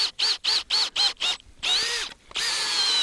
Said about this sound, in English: So I'm starting to drill and holding here with my knee.